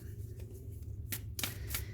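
Tarot cards being shuffled in a few quick riffling bursts, close by, with a low hum in the background and no talking.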